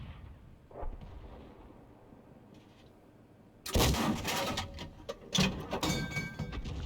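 A 105 leFH18B2 artillery gun fires shells in a tank video game. A faint thump and low rumble come first. Then a loud, sharp blast and impact crash, followed by a second heavy boom and a crackling, rumbling tail.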